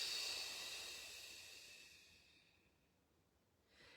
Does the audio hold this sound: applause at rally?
no